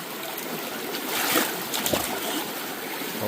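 Water splashing and sloshing while it is scooped at a gold-prospecting dredge, a continuous close rushing with a few brief splashes in the middle and no talk.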